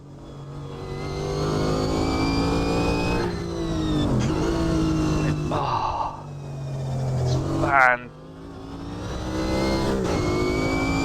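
Group C race car engines from Automobilista 2 roar and rev hard, rising and falling through gear changes with a sharp shift around the middle, a narrator's voice faintly beneath.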